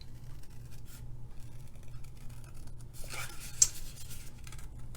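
Scissors snipping paper to cut out a paper flower for a handmade card, faint close-up crisp cuts clustered near the end over a quiet hum, no talking.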